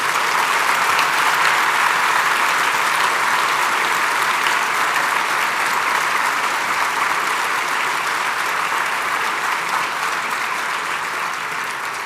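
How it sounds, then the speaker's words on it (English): Sustained, even applause rolls through the audience at a ceremony honoring 27 Los Angeles police officers, a thick, steady roar of many hands clapping that holds for a long stretch. "A round of applause for those heroes here."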